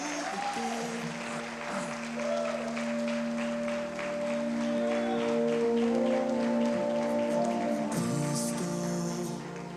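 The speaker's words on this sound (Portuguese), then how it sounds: "Pode aplaudir mais forte a Jesus." A church congregation claps steadily through an evening worship service, the applause running for about ten seconds and mixed in under loud sustained worship music.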